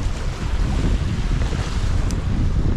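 Strong, steady crosswind buffeting the microphone on a fishing trip, a loud continuous low rumble with no voices, like gusts on open water.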